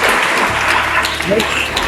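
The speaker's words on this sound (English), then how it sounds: "A round of applause for this school, please." Audience applause for Kings and Queens Academy at a student debate in Oshogbo, Nigeria: a dense, steady wash of clapping that fills the whole short stretch without a break.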